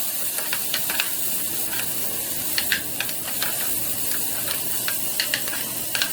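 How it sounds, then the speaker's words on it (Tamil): Onions with ginger-garlic paste sautéing in a pan for prawn thokku: a steady, loud sizzle with scattered crackles and pops, heard alone. "அதுக்கப்புறம் இஞ்சி பூண்டு பேஸ்ட்டு சேர்க்கணும். அதையும் நல்லா வதக்கணும்."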